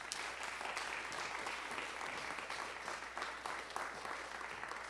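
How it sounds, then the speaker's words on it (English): Seminar audience claps for school board candidates, a continuous even round of applause heard faint and distant without speech. "Would you join me in a round of applause for all of our candidates?"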